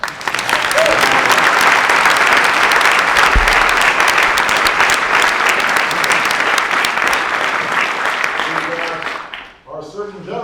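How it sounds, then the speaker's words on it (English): Audience at a White House precision medicine event breaking into a loud, sustained round of applause that fills the room, fading near the end as a voice begins speaking. "You can give her a round of applause."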